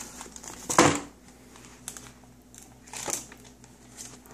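Gift wrapping paper crinkles and tears in a few short bursts as a small child rips open a present, with quieter rustling between the rips.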